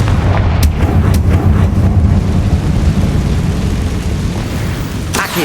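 Confringo blasting spell explosions from the video game Hogwarts Legacy, a series of loud booming blasts with sharp cracks over a heavy, continuous low rumble.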